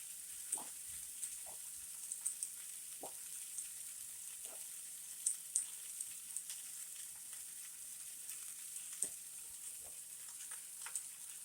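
Yellow squash sizzles and fries in a greasy cast iron frying pan, a steady close crackle with scattered louder pops and spits, no voices.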